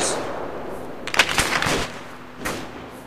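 An M60 machine gun fires at a vehicle in a combat video game, with a rapid rattling burst followed a moment later by a shorter second burst, loud and close.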